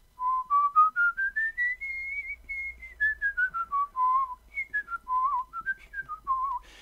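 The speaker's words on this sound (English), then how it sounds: "One way to experience this is to just practice whistling." A single person whistles a clear melodic line close up, notes rising gradually then falling and wavering in a slow, steady phrase.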